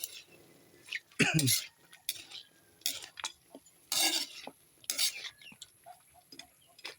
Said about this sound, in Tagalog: Halo-halo lang natin